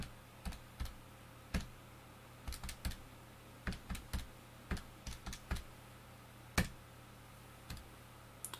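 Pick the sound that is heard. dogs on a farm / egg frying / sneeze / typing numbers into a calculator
typing numbers into a calculator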